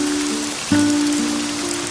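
Rain falls in a soft, even hiss, with a low steady hum running beneath it that swells briefly partway through.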